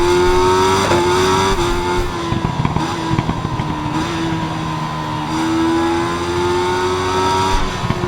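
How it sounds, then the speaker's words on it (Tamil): A 2016 Kawasaki ZX-10R superbike with full tune and SC Project exhaust in the Ride 5 racing game drones loudly at high revs, with pitch shifts between gears and scattered crackling pops from backfire. "பேக் ஃபயர் ஆகுது பாருங்களா சாமியாக இருக்கு அந்த சவுண்டு"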